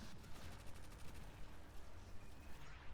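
Rapid gunfire from the Destiny 2 video game, a dense and steady burst of repeated shots that rolls on without a break, loud and close and unaccompanied by speech.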